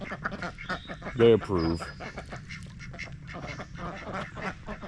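Ducks quack in a short burst beside a newly built backyard pond fenced with pasture fencing, the calls loud and close for a moment while a voice talks over most of the scene.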